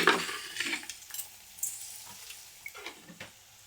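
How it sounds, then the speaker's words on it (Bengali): Spinach egg curry frying in a pan, with soft sizzling and occasional stirring clinks of a utensil against the pan, faint and intermittent, no voices. "ভেজে নেব সামান্য পরিমাণ"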